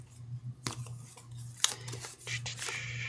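Playing cards for a card game's encounter deck are shuffled by hand, making a series of close, crisp papery snaps and riffling bursts over a low steady hum.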